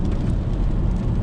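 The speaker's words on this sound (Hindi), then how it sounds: "बारिश की छींटें पड़ती है उसकी आवाज़ आ रही होती है" Rain pattering on the glass sunroof of a car during a road trip, a steady dense wash of drops heard from inside the cabin, continuous and fairly loud with no voices.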